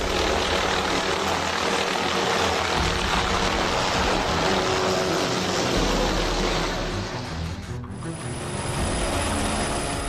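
Rescue helicopter working over jagged rocky mountain terrain high above sea level, a continuous loud rotor and engine roar that shifts in tone and dips briefly near the end.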